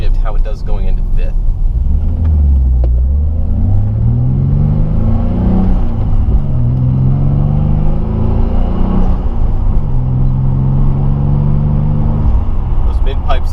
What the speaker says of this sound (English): I am getting a bit more exhaust noise and turbo noise too, which is always a good thing.